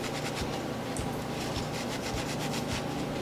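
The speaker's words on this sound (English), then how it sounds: "a little bit of brake clean on a rag. And you just wipe it off." A rag soaked with brake cleaner is wiped across an Opel CIH engine part during rotating-assembly work, a steady close rubbing scuff that runs continuously with no speech.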